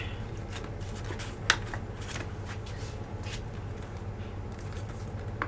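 Paper being folded into an origami Easter basket gives a steady, close, soft crinkling and rustling, with one sharp crease snap partway through and no talking.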